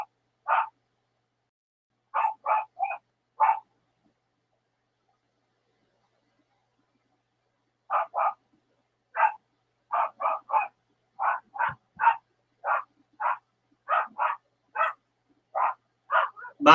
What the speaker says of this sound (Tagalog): Lakas tumahol yun.